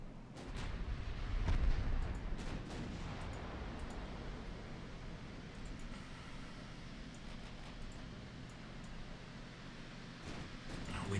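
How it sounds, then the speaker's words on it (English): Naval secondary guns in Ultimate Admiral Dreadnoughts fire under a dense, rumbling wash of distant gunfire and explosions that continues throughout, with sharp reports at the start and near the end. "No idea if you're in range, but if you are, open fire, please."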